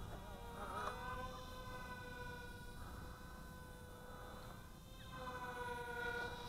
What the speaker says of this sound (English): I like the sound of its weird motors.